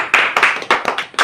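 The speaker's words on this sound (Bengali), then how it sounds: "চলো হাততালি হাততালি হাততালি।" Rhythmic hand clapping at a prize giving, several sharp claps in quick groups at close range, with no talk over them.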